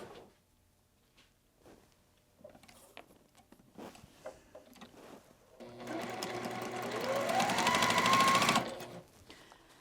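A sewing machine stitches quilt block pieces together, starting after some quiet handling noises and running steadily for about three seconds with a rising whir before stopping.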